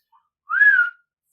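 A single short whistled note from a person, rising slightly then falling, clear and close, alone in silence.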